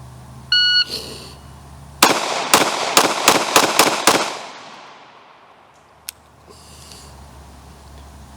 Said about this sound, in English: come up and try to get 6 shots in very quickly